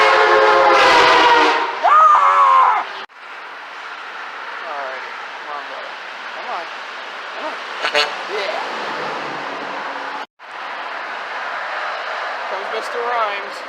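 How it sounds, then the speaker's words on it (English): A dump truck fitted with train horns sounds a loud, near multi-tone horn blast lasting about three seconds, followed by engine rumble and passing traffic, with people talking over it. "Here comes the dump truck with the train horns."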